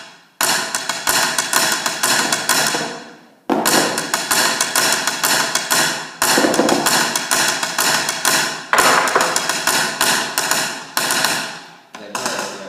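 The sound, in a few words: snare drum played, top line of a duet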